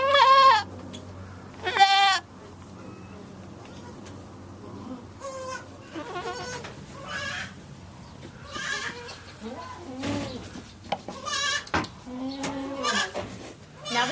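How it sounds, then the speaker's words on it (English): Goats on the Little Farm in Homestead, Florida, bleat in several short, wavering calls scattered across the scene, some close and loud, over a low background hum. "Now that you've seen the goats, Izabella, would you like to milk one maybe?"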